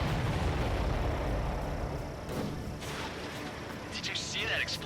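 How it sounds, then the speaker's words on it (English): A supply ship explodes in Ace Combat 7, a dull rumbling blast with a sustained roar and crackling debris that fades over several seconds, heard alone without talk. "Did you see that explosion? Looks like that's one of them down."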